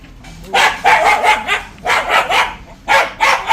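A dog barks at a young Indian spectacled cobra in short bursts, several loud, close barks in three clustered groups with brief pauses between them.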